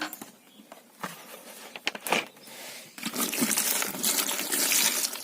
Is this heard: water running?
yes